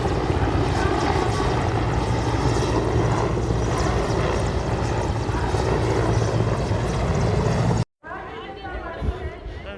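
Helicopter touching down at Ramdevra during a visit by the defence minister, a loud continuous rotor and engine roar filling most of the clip, cutting off abruptly near the end, then quieter crowd and wind noise.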